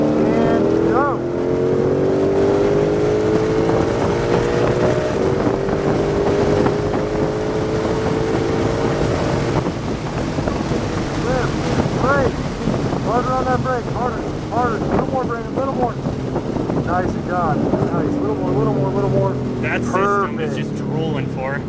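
A Ford Shelby Mustang GT500 accelerates hard around Palm Beach International Speedway in Florida, its engine note climbing and shifting in long sweeps under heavy wind rush, with a person talking over it from inside the car.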